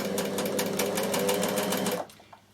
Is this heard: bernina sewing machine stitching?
yes